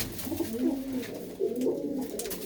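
Pigeon hen cooing in a loft kept for fancy breeding, a series of soft, low throaty coos repeating close by with no talk over them.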